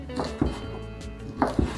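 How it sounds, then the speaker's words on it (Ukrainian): A knife dices boiled chicken fillet on a board in a few sharp taps, two pairs of quick cuts separated by a pause, close and fairly quiet. "І нарізаю кубиком."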